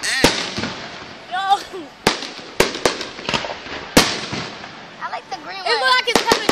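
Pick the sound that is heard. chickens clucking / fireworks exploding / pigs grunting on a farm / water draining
fireworks exploding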